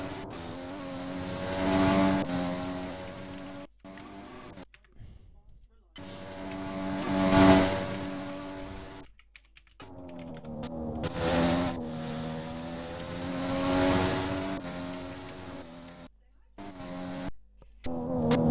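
Formula-style race cars from a Formula Ultimate pre-season test in a racing video game, engines rising and falling in repeated revving passes with harmonic whine, punctuated by abrupt cutouts, with a voice talking over them.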